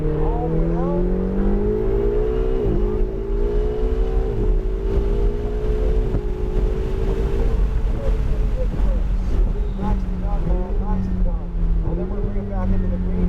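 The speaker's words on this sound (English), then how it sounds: "And then now we accelerate all the way down." A Ferrari 488 GTB accelerates hard on a track, its engine note rising steadily through the gears with brief dips at each shift, loud and close from inside the car, with a voice talking over it.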